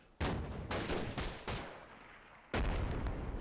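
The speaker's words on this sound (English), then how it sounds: "That grenade actually, on a bad day, might have killed Flag that soldier." Several sharp explosive blasts in Myth II Soulblighter, four or five separate booms with short decays, loud and close, with no talk.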